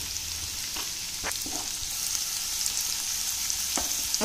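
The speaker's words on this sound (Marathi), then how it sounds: "लसूण परतल्यानंतर मी इकडे 2 छोटे कांदे बारीक चॉप करून घेतलेले आहेत ते घालते" Finely chopped small onions sautéing with garlic in a pan, a bright continuous sizzle with a few sharp utensil clicks and scrapes, close and loud with no talking.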